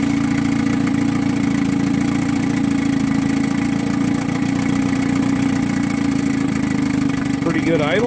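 A 1959 Gale Sea King 5hp outboard motor idles steadily in a test tank, a loud continuous mid-low drone with an even rhythm throughout, ending with a brief higher-pitched sweep.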